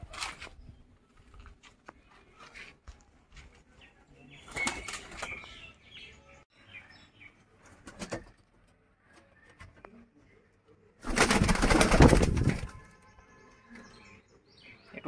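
A pigeon being released gives loud bursts of flapping wings, a sharp flurry near the middle and a longer, louder one later, with quiet rustling between and soft talk in the background.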